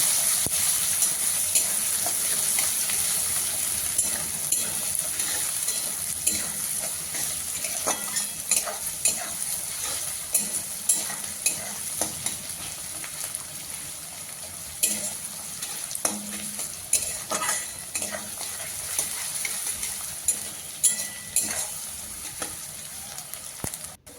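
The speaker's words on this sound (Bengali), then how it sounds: "পেঁয়াজগুলো প্রথমে খুব ভালোভাবে ভেজে নেব।" Chopped large onions fry steadily in hot oil for a pea ghugni, a continuous sizzle with frequent stirring scrapes and clicks throughout, close and without talk.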